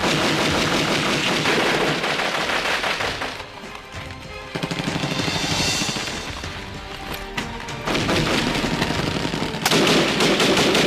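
Heavy bursts of rapid automatic gunfire rattle loudly and continuously, pausing briefly mid-way before resuming with crashing, booming shots.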